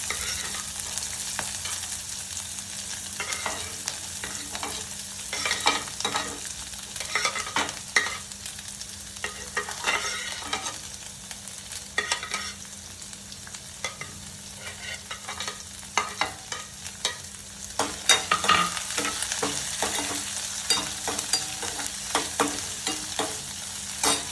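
Onions and green chilies fry over a lowered flame in a pan, with a steady sizzle and repeated scraping strokes as they are stirred, close and continuous, with no talk.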